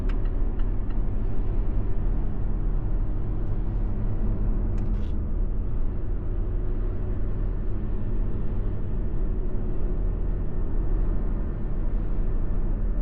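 Steady car interior drive on asphalt, with a continuous low rumble of tires and wind filling the whole stretch at an even level, no talking.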